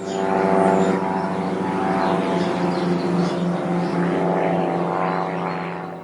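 A propeller training airplane drones steadily near a Florida airport, a continuous hum that swells slightly and then fades toward the end.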